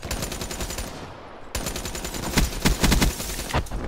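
Rapid automatic gunfire in a Black Ops 3 match, dense bursts of shots up close with a short gap partway through, followed by louder, heavier volleys toward the end.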